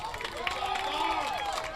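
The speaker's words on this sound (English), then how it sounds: "Home crowd giving them a nice round of applause as they head to the locker room" Home crowd at a high school football game between the Baldwin Bulldogs and Bishop Ward Cyclones applauding as players head off the field, a steady wash of clapping and crowd murmur under a commentator's voice.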